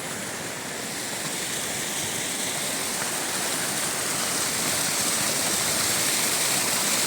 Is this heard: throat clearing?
no